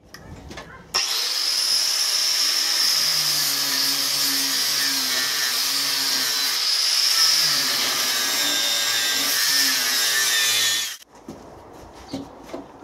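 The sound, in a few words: carbide burr die grinder cutting cast iron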